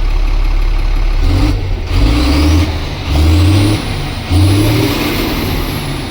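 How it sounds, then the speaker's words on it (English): Truck with a DT466 engine idles roughly while its air brake vents through a stuck-open ABS valve, loud rumbling engine with repeated hissing air bursts and several rising tones, close by and without talk. "You hit the brakes and it's exhausting out of the ABS valve."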